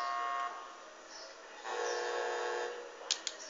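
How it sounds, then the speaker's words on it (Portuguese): A steady, droning truck horn blast in GTA V holds for a few seconds, rising partway through, followed by two brief clicks near the end. "Buzina de caminhão."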